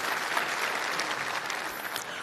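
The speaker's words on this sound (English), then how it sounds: "Let's give them a round of applause, please." An audience at the opening keynote of a Workday developer conference claps to welcome newcomers: even, continuous applause from a sizeable crowd, fairly close, with no talking.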